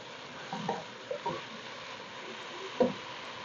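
Radish curry with kasuri methi is stirred in a pan: a few soft scraping clicks of a spoon against the metal over a faint, steady sizzle, with no voices.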